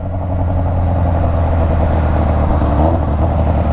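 A Yamaha Fazer 600 (FZ6) motorcycle running on its exhaust alone, fitted with a WR sport exhaust and prepared for a remap. It gives a loud, steady, close engine roar with a brief rise in revs near the end.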